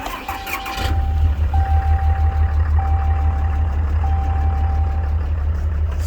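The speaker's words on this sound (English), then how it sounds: "Kind of misfiring, if you know what I mean." A 2014 Ram 3500 with 621k miles, its engine misfiring, runs loud and close after a brief quieter opening, settling into a steady, heavy rumble that pulses unevenly throughout.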